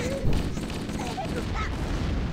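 Gunfire and explosions from Halo: Combat Evolved, dense rapid shots and rumbling blasts packed together in a short burst, moderately loud and continuous.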